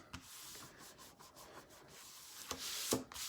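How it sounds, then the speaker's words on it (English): Paper being burnished flat onto a mini album page built from Stamperia Alice papers, a soft continuous rubbing hiss with a couple of sharper strokes near the end, close and quiet with no talking. "burnish it down."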